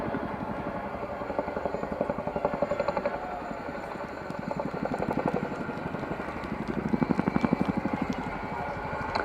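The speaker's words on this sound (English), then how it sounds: "A beautiful look of the contra-rotating blade design that makes Chinook unique on the battlefield." Boeing Chinook HC6A tandem-rotor helicopter displaying at an air show, its contra-rotating blades producing a rapid, rhythmic thudding pulse that swells and fades as it maneuvers, heard from a moderate distance with an engine whine underneath.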